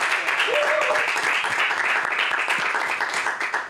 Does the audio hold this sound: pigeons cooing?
no